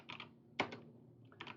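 Keys clatter on a computer keyboard in short bursts, a few quick clicks, a pause, then another sharper cluster, close and quiet with no talking.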